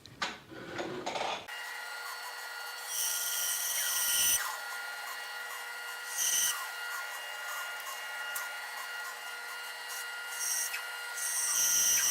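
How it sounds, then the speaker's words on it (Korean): Band saw trimming waste wood off a rocker for a rocking chair in a woodshop: a steady high motor hum with several separate bursts of cutting noise as the blade bites through the wood. "먼저 정리할 면을 줄이기 위해서 이 버려지는 부분을 밴드소에서 살짝 잘라올게요."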